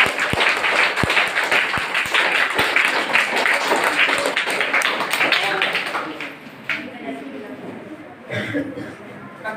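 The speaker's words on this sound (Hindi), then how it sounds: "ताली बजाएं।" An audience at a school competition event claps in dense, lively applause that fades after several seconds into murmuring voices and a few scattered claps.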